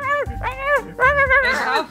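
A pet dog in the video game Minecraft whimpering, with a few high, drawn-out whines and yips in quick succession, close and clear with a low rumble underneath.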